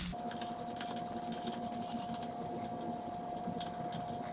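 A spark plug socket works loose a spark plug on a Honda VTX motorcycle, giving close, quiet rhythmic scraping and ratcheting strokes that fade into faint rubbing.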